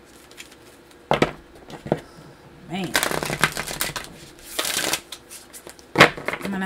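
Stiff tarot cards being shuffled by hand, with several bursts of riffling and clacking, some of them sharp, close by, and a brief spoken word.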